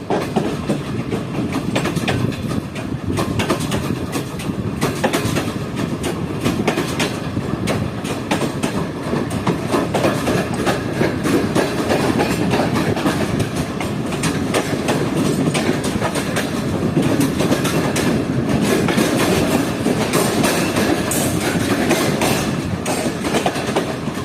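A Karachi Express train runs through Khanpur Junction railway station, heard from inside a carriage with the window slightly open: a loud, continuous rumble and roar of wheels and wind with faint rhythmic clatter, no talking.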